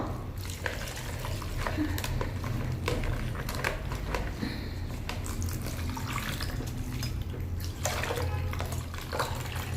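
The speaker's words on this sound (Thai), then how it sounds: "ทีนี้เราก็จะใช้น้ำเปล่าล้างนะคะ" Aloe vera is rinsed under plain running water, a continuous close splashing flow with scattered splatters and knocks throughout.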